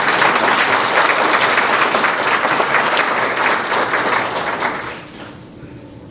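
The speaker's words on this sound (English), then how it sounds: "Can we give him a round of applause?" Audience applause at a community foundation spring grant celebration, a dense, loud round of clapping that holds steady for about five seconds, then thins out and fades.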